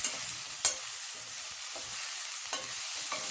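Green chillies sautéing in a pan for a mixed dal and pulse gravy, a steady close sizzle broken by a few sharp clinks of a spoon against the pan, with no voices.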